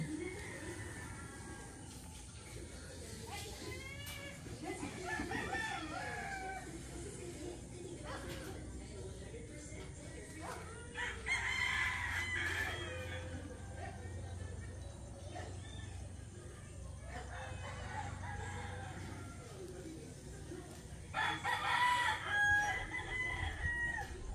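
Roosters crow repeatedly outdoors in rural surroundings, several drawn-out calls at mid distance over quiet ambient noise and some clucking fowl.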